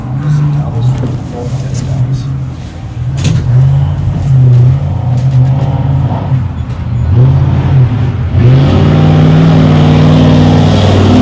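A 2006 Ford F-250 race truck from Alberta crossing the start-finish line at an off-road desert race, its engine roaring loud and steady with pitch swells as it revs past, with a drone nearby and talk over it.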